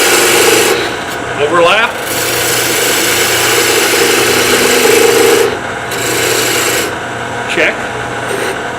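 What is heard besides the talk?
parting tool cutting wood on a lathe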